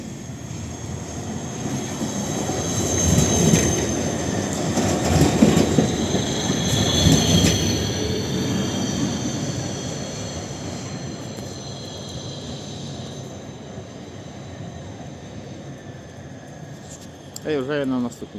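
A tram rumbles past nearby on a street in Lviv at Christmas, with rattling wheels and a faint squeal, its noise swelling then fading, while people talk over it.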